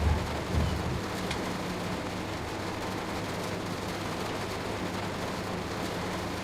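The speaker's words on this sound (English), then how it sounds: "you hear the rain sound? We're in a tunnel, yeah?" Steady rain hiss from Train Sim World 2, audible inside a tunnel where it should not be heard, continuous and moderately loud with a low rumble early on and no speech.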